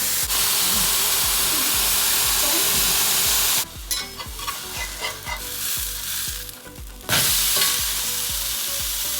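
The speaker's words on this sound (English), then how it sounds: "my pan is hot. Gonna throw that mushroom right on there." Steady loud sizzling of a mushroom frying in a hot cast iron pan, a continuous crackling hiss with a brief quieter stretch in the middle before it swells again.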